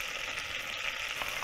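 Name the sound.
stirring flour into butter and oil for béchamel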